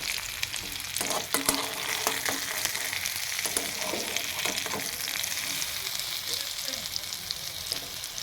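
Pointed gourd (potol) pieces frying in oil in a pan, a continuous close sizzle with occasional clicks and scrapes of stirring, steady throughout without voices.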